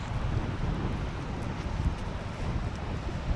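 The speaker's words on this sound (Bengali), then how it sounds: "এটা আসলে এত হাওয়া" Strong wind at the Tajpur sea beach buffets the microphone in a steady, loud rushing blow with gusty surges and no one speaking.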